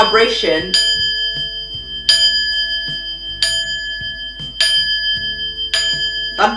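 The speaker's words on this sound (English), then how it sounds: "You're just like playing the gong" A metallic gong is struck about five times at a slow, even pace, each hit ringing out with a long shimmering decay before the next.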